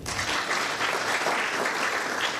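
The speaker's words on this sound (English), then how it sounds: "Can you clap again?" Loud, dense applause from a large film festival crowd, sustained and even throughout with no voices over it.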